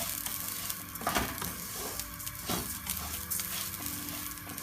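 Rice fried lightly with spiced mutton in a pot for Bangladeshi tehari: a steady close sizzle with soft scraping stirs and clinks from a utensil, and no talking.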